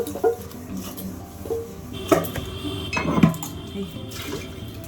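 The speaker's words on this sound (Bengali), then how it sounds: "এগুলো সবই ধুয়ে রাখি কড়াইগুলো রেখে দেবো" Woks being washed under a running kitchen tap: faint continuous water flow with several short metallic clanks and knocks of the pans, heard close and alone.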